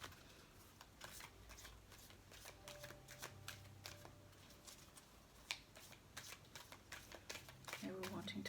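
Tarot cards are shuffled close by with quick papery riffles and soft taps, continuing steadily throughout at a quiet level.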